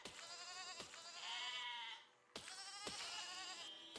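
Sheep in the video game Besiege give two drawn-out, wavering bleats, each a couple of seconds long and clear and close, with no talk over them.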